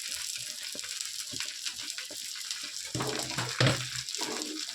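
Mustard seeds splutter and pop in hot oil in a home kitchen pan, a busy crackling sizzle of quick little bursts, growing louder and denser toward the end.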